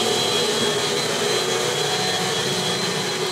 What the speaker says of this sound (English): now we're going to turn on the vacuum so that we can start